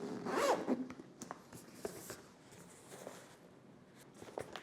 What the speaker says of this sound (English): There are two zips here.